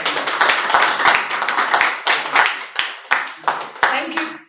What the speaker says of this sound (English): Please welcome with a round of applause.